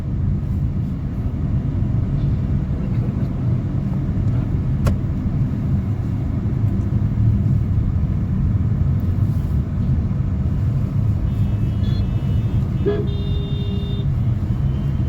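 Evening road traffic jam near a river on the Ratnagiri–Rajapur route: a steady, loud low rumble of idling and creeping vehicles throughout, with a short horn toot near the end.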